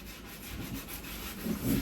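Scrubbing dishes by hand with scouring powder after dinner: a steady abrasive rubbing and scraping, close and continuous, swelling louder near the end, with no talking.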